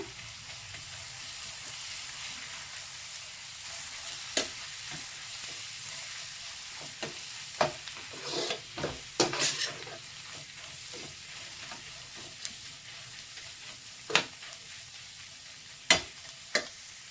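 Gram flour is stirred into a pan while cooking curd gojju, a quiet sizzle broken by scattered scraping strokes of the spoon that grow sharper toward the end.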